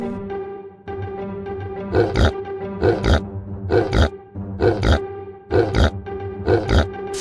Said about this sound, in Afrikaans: Vark.